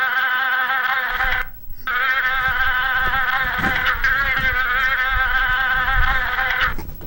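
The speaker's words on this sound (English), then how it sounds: "There's tons of bees in here." Bees buzzing indoors inside a house, a loud, steady droning hum that holds throughout with one brief break, close and alone without talk.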